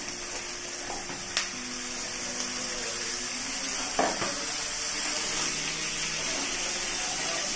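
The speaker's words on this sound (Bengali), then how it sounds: "এইবার আমার কেটে রাখা যে আলুগুলো রেখেছি সেই কেটে রাখা আলুগুলো দিয়ে দিচ্ছি" Cut potatoes and onions frying in a pan while making spicy semolina, a soft continuous sizzle with a few light clatters and scrapes, fairly quiet and without talk.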